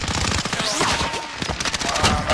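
Sustained automatic gunfire in a multiplayer shooter video game, rapid dense bursts of shots rattling continuously and loudly throughout, with faint game effects layered underneath.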